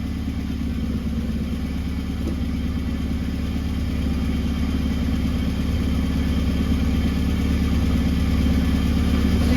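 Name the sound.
classic Mini car engine running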